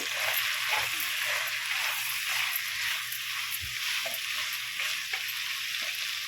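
Okra sizzles steadily in hot oil with turmeric, a close, continuous frying hiss punctuated by the soft scrape of a spoon stirring the pan, no talk over it.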